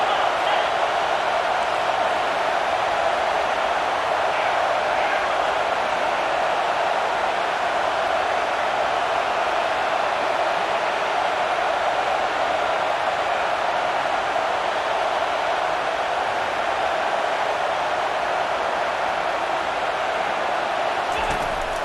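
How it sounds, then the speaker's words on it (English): Steady, loud stadium crowd roar fills a College Football 25 video game matchup of USC against Michigan, swelling behind the defense on third down, with a continuous dense wash of noise throughout and no distinct breaks. "Decibels rising as the crowd gets behind this defense on third down"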